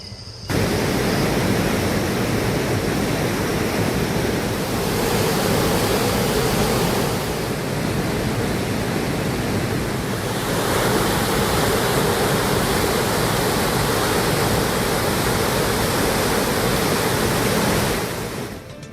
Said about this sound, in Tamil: ஆற்றின் இரு கரைகளையும் தொட்டு பெருக்கெடுக்கும் தண்ணீர் கரையோர வேளாண் நிலங்களில் புகுந்தது.